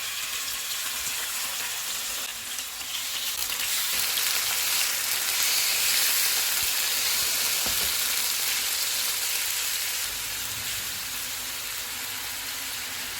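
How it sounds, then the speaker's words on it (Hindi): Marinated chicken fries in hot oil with a loud, dense, continuous hiss and crackle, close up and steady, with a few small pops and no voices. "ऑयल गर्म हो गया, इसमें मैरिनेटेड चिकन डालेंगे"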